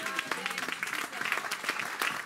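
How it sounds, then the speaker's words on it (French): A church congregation claps and cheers in praise, a brief burst of irregular hand claps with mixed voices rising in the background, moderately faint. "Donnons une acclamation au Seigneur."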